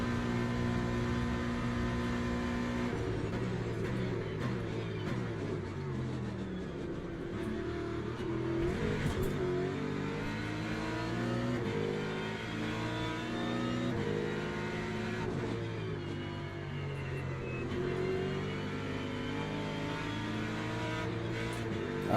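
Ford race car engine in a racing video game, running loud and continuous with steady high revs, shifting pitch and repeated revving through gear changes, no talking.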